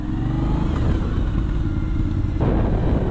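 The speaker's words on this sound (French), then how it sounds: "Elle a un très très bon frein moteur." Aprilia Shiver 900 motorcycle engine braking on the road, a close, steady low engine drone with some wind rush. The engine note shifts slightly near the end, and there is no talking.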